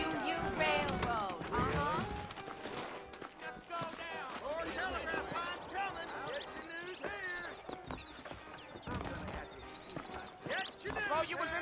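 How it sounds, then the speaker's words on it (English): Saddled horses clip-clopping at a trot in the Red Dead Redemption western video game, steady hoof rhythm running the whole stretch beneath almost continuous conversation and game sounds. "I got the horses saddled up and ready out front."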